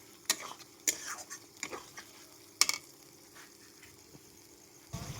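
Chicken being stir-fried in desi ghee, a faint sizzle broken by intermittent clinks and scrapes of a spatula against the pot, with no talking.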